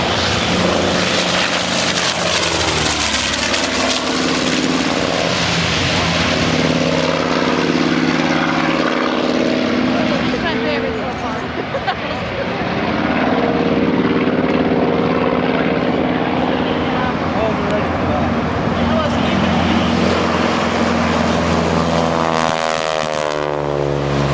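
Propeller warbirds at a beach airshow, a Ju-52 trimotor and a Yak-3 fighter, roar overhead with a loud, sustained engine drone that rises and falls in pitch as they pass.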